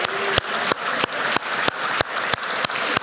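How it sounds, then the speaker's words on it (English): A crowd of diners at an annual awards dinner applauds and cheers, a broad wash of clapping and whoops repeatedly chopped by sharp loud thumps, moderately loud and steady. "Massive round of applause."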